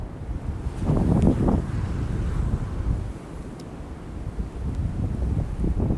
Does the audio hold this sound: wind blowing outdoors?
yes